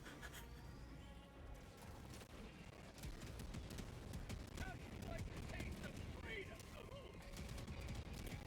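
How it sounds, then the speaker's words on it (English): Autocannon fire in the video game Helldivers 2, a steady barrage of heavy shots and blasts pounding over several seconds amid battle noise, with voices talking over it. "You gotta shoot it with an autocannon"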